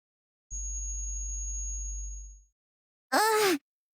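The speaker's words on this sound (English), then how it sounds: "It's an electronic jammer, so no one can eavesdrop on us." A low, steady electronic jammer hum in Goddess of Victory: NIKKE drones for about two seconds and fades out, followed by a short warbling synthetic tone.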